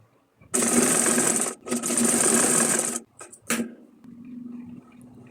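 Domestic sewing machine stitching three cloth pieces of a folding bag together in two loud, steady bursts of rapid needle clatter, followed by a few short stitches and a quieter whirring hum.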